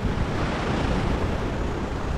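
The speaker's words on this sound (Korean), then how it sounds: "파도도 생각보다 세네요" Strong ocean waves at Kata Beach in Phuket roar as a steady, loud broadband wash with wind noise, with no voices over it.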